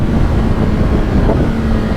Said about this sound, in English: that exhaust sounds nice. The Graves Motorsport exhaust